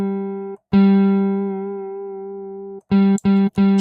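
A sustained fretless guitar note from an app rings out alone with a slight wavering vibrato, followed by a few shorter repeated notes.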